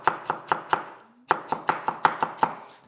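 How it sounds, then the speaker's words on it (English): An onion being finely chopped with a knife on a board: two quick runs of crisp, evenly spaced chops, four strokes then seven, close and clear, split by a short pause. "you need to chop your onion quite finely so that everything cooks nice and evenly"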